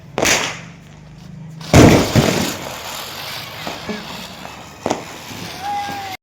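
Firecrackers set off for a child at a family Diwali celebration, giving a sharp loud burst early on, then a strong crackling blast near two seconds followed by scattered smaller pops and a brief whistle, with faint talk in the background.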